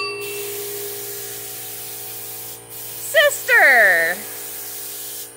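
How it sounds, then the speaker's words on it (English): A Dodge Neon car being spray painted: a steady, loud hiss of spray runs throughout. A person calls out briefly over it. "He is spray painting the neon."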